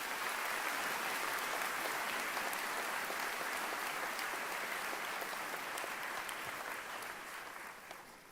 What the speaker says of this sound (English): How about a round of applause for these 8 students?